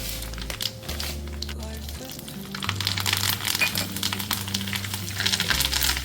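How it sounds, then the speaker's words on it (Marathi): Mustard seeds, poppy seeds and sesame seeds crackle and sizzle steadily in hot oil for a Diwali chivda tempering. The sizzle sits beneath a talking voice and background music throughout. "आता आपण करतो आहे फोडणी त्यामध्ये मी घातली आहे मोहरी खसखस"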